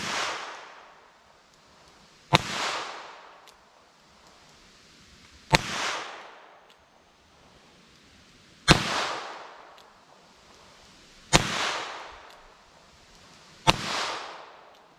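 Five sharp .32 S&W Long wadcutter gunshots fire at a slow, evenly spaced pace outdoors, each loud crack followed by a rolling echo that fades before the next shot.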